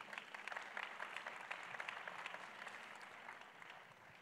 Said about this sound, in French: je vous demande donc d'applaudir